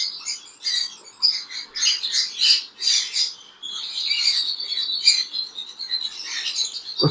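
Pet parrots, among them pineapple conures, squawk and chirp in a busy, close chorus of shrill calls with no talk over it.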